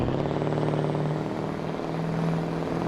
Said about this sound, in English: That's the jake brake.